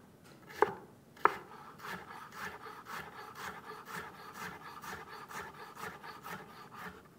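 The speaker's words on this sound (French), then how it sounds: "je découpe pour avoir une julienne régulière" A knife chops carrots into brunoise on a cutting board, a steady run of quick, close taps with two sharper knocks near the start, with no talking.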